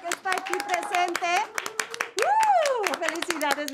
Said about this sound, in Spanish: Un fuerte aplauso público que está aquí presente.